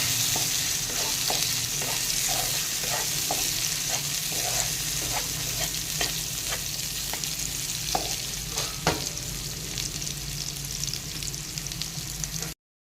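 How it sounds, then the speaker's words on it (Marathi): Tomato sautéing with potatoes in a pan, a constant close sizzle of frying broken by regular spatula scrapes and taps against the pan throughout, ending abruptly. "आता हा टोमॅटोसुद्धा आपण छान मऊ शिजेपर्यंत परतून घ्यायचं आहे"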